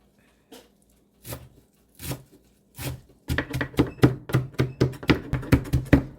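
A knife chops fresh cilantro for ground beef tacos on a cutting board, starting with a few slow, separate cuts and then speeding into a quick, steady run of crisp, close taps, with no voice.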